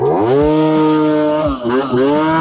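A small two-stroke engine bogs and stumbles after a carburettor mixture screw adjustment, its loud buzzing note sagging and recovering unevenly over a couple of seconds.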